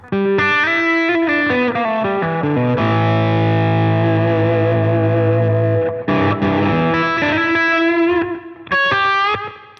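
A distorted electric guitar on the bridge pickup, played through a REVV amp, plays a sustained, effects-laden melody with gliding bends and long held notes, bright and upfront, with no talking.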